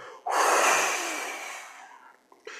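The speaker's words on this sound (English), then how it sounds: "when you can't squeeze no more, you keep squeezing and you exhale" A single forceful breath is exhaled after being held, a sudden loud rush of air that tapers off gradually over about two seconds, followed by a quiet catch of breath.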